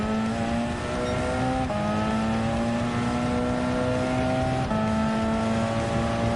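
Group C prototype race cars, including a Jaguar XJR-9 and Nissan R92CP, racing at Daytona in Gran Turismo 7; a loud, steady engine howl with pitch climbing through gears and dropping at two quick shifts.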